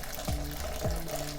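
Low-salt vegetable stock pours from a jug in a kitchen, a close, steady watery splash and gurgle with a few rhythmic sloshing pulses.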